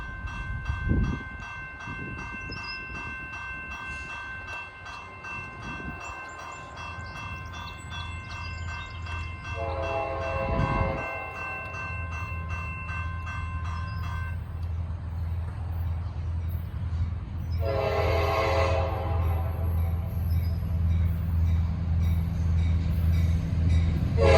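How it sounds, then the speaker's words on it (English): A Norfolk Southern work train led by locomotive 5620 sounds long, loud horn blasts, then a second horn burst, while a deep engine rumble builds and rolls steadily past as the train approaches. "a 5620 leading that work train"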